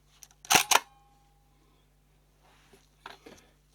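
A Prontor CF leaf shutter in a Hasselblad Planar CF 100mm f/3.5 lens, faulty and under test, fires close up with a sharp double click. After a quiet pause come softer mechanical clicks and winding sounds over a faint steady hum.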